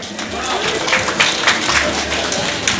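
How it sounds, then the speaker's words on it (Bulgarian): Audience clapping at a pageant-style stage event, a fairly even burst of applause mixed with crowd noise and some voices underneath. "Аплодисменти за неговата майка."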